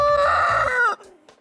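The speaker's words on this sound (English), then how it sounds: "You might think that roosters crow only in the morning." A pet rooster kept in a home mini zoo crows once, loud and close, a bright rising-then-falling call lasting about a second before cutting off into quiet.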